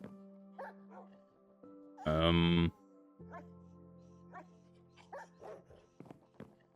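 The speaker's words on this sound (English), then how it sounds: "Oh, guard dog." Guard dog barking in Minecraft, a short loud burst of game bark partway through, set among quiet ambient game sounds and a few soft clicks.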